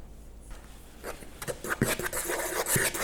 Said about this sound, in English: Give it a whisk, and then set it aside.